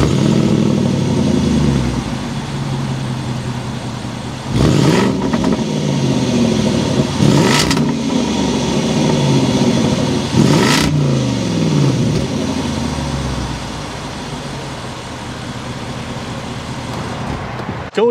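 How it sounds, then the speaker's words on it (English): A powerful supercharged V8 engine in a 2023 Land Rover Defender 90 SUV rumbles and revs hard three times, each blip rising then falling back to a deep, throaty exhaust idle, loud and close. "start it up so you can hear that exhaust note"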